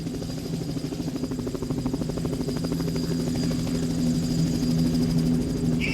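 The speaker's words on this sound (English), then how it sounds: "Helicopters now." A helicopter flies overhead in Los Angeles, a continuous rhythmic rotor thump and engine drone that stays steady and moderately loud throughout, with no voices.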